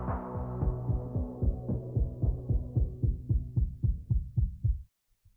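A low, throbbing heartbeat-like pulse in a pop song beats about twenty times in a steady, quick rhythm. It slowly fades toward the end, then stops, with no voices.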